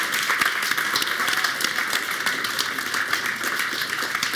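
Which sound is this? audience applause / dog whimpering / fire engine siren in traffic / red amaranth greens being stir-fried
audience applause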